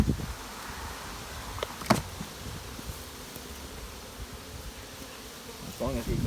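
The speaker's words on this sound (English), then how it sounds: "this looks like a strong one because it's got so many bees coming in" Honey bees buzz steadily around a nucleus hive outdoors, a dense continuous drone with a few louder passes close by and a brief rustle near the end.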